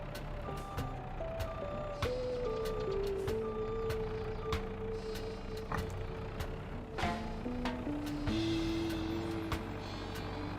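Farm machinery in Farming Simulator 22 reverses with a string of sharp, evenly spaced backup beeps over a droning engine that shifts pitch as it moves.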